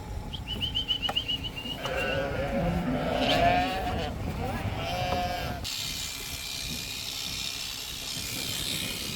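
Pregnant sheep on a farm in Russia bleat several times close by, mixed with farm noise and a ratcheting mechanical sound, then a steady hiss takes over.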